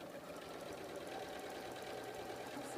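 A sewing machine runs in one continuous, even burst as quilt squares are chain-pieced together, with a steady rapid mechanical hum and no talking.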